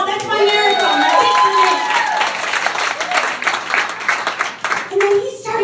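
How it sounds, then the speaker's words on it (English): Applause and clapping rise from a stand-up comedy audience, with children's voices and cheering mixed in, steady and fairly loud throughout. "You can applaud."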